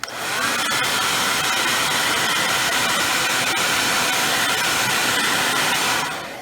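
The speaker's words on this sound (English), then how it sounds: "now we're going to heat up each corner until it's pliable, until it's soft" Heat gun blowing hot air onto the back glass corner of an iPhone 8 Plus during a back-glass repair, a steady loud broadband whoosh held unbroken for several seconds with no talk.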